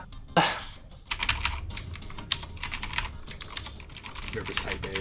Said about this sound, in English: Nervous typing.